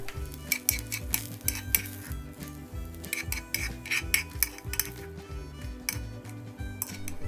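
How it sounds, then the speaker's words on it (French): Chives sautéing in a pan for Korean japchae with sweet potato starch noodles. Repeated metallic scrapes and clinks of a utensil against the pan sound close and busy, with a soft sizzle underneath and no talking. "On fait maintenant revenir notre ciboulette."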